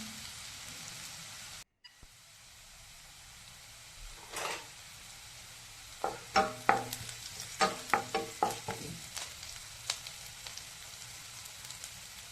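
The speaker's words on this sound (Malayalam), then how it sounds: "ആദ്യം രണ്ട് ടേബിൾ സ്പൂൺ എണ്ണ ഒഴിക്കാം അതിലേക്ക് അടുത്താൽ ഉള്ളി അരിഞ്ഞത് ഇട്ട് കൊടുക്കാം" Faint hiss of chopped onions frying in oil in a pan, with a quick run of metallic clinks and scrapes from stirring partway through.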